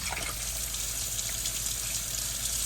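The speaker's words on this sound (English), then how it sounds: "Let's see if I turn the tap on. Hot tap." Hot water runs from a tap on a narrowboat fed by a water pump and a Cointra water heater, a steady close splashing rush into the sink with a low pump hum beneath, no talking.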